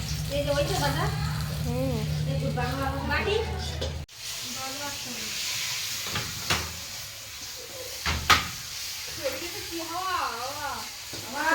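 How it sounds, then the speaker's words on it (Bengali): Hilsa fish fries in a pan, a continuous sizzle and hiss running under people talking nearby. "ইলিশ মাছ ভাজা হচ্ছে।"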